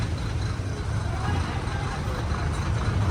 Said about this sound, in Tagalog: Traffic na naman po ngayon dito sa harap ng Robinson.